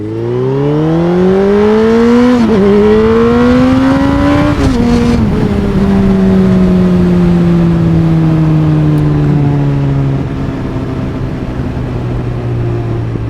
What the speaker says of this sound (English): I'm just going to open this engine up.